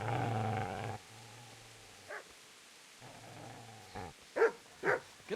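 A dog in the medieval video game Kingdom Come Deliverance growls low and then lets out several short, sharp barks, fairly close, with brief quiet gaps between outbursts and no talking.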